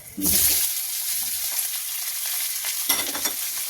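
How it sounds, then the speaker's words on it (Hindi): Diced potatoes sizzle steadily in hot oil with cumin seeds in a pan, frying until crisp for a fasting-day dish, with louder bursts as they are stirred near the start and again toward the end. "इसको हम फ्राई कर लेंगे बढ़िया क्रिस्पी करारे"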